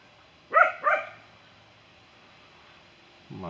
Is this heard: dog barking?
yes